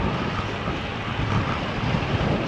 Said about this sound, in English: I'm getting some pretty good gusts in the right front quarter.